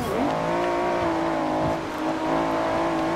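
A powerful 740-horsepower car in Forza Horizon 2 accelerating hard, its engine droning steadily with a rising and falling pitch and a brief squeal, loud and continuous.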